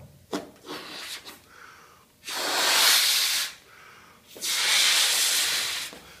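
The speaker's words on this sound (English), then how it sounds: "I'm going to blow up a balloon inside where it's warm." A person blows up a balloon indoors on a freezing Minnesota winter day. Two long, loud breathy bursts of air rush into it, with a few shorter puffs before them.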